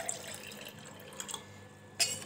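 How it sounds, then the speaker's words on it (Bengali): Cold water trickling and splashing into a container of yogurt for a sharbat drink, faint and close, with a few small drips and a brief louder splash near the end. "এই যে এবার ঠান্ডা জল দিয়ে দিচ্ছি"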